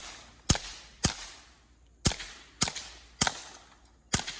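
Six sharp rifle shots from an AR22 firing CCI Mini-Mag rounds at bottle and egg targets outdoors, spaced roughly half a second to a second apart, each loud crack with a short decaying tail.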